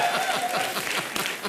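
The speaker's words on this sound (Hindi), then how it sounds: "जोरदार तालियां होनी चाहिए" A studio audience on the comedy show Comedy Nights With Kapil bursts into loud, dense applause. The clapping is brief and sustained, close and full, with faint chuckles running through it.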